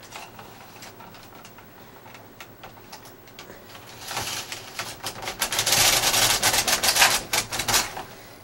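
A flat bed knitting machine carriage knits rows of a tube sock with rapid, dense mechanical clacking, quieter at first and then louder and busier through the second half.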